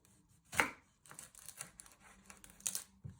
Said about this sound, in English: First step to do is to chop your ends off your onion.